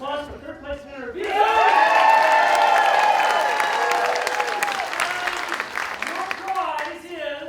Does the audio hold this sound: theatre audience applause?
yes